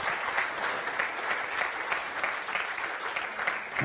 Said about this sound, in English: round of applause for Gregor.